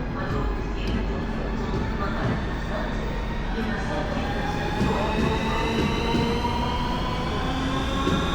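A Moscow subway train rumbles past close by, a steady loud roar with rising metallic whine and faint wheel squeals throughout.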